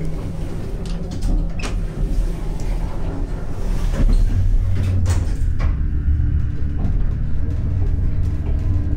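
Montgomery hydraulic elevator doors slide with a loud close rumble and a few sharp clunks, over a steady low mechanical hum inside the car.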